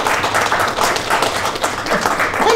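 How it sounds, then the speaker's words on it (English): An audience at a royal gathering honoring guests from the United States claps loudly and steadily for the whole stretch, a dense, close wash of many hands with no break. "Please clap, everyone."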